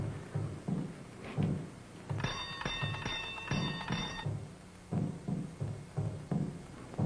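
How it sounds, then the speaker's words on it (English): A doorbell rings at a house entrance, a bright sustained metallic ringing that lasts about two seconds over a background of rhythmic clopping and murmur. "You ring the bell."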